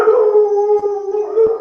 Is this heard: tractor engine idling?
no